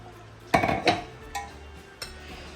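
A spoon spreads ground ripe mango curry paste in a dish, giving a few distinct metallic clinks and scrapes against the vessel, the first two close together and louder, then softer taps.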